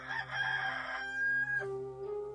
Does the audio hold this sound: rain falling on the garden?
no